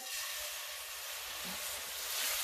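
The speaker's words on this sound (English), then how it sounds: "I'm probably gonna get a good sizzle because the oil's popping." Chopped garlic sizzles in hot, popping oil while white chicken chili is being cooked, giving a steady, close hiss that holds evenly throughout with no talking.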